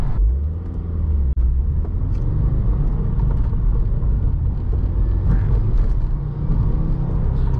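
A 2016 Subaru WRX Premium with a 6-speed manual pulls hard under acceleration, its engine roaring as a dense, loud, continuous rumble from inside the cabin, broken by one brief dip partway through.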